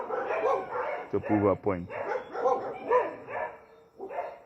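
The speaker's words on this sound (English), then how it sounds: "And you see how jealous dogs are when they realize that somebody is outside and they don't have that type of freedom. They always begin to make lots of noise." Dogs bark and yip at someone outside in short bursts, heard beneath steady nearby speech.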